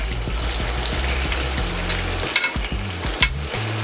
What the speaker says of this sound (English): Bologna's frying up nice.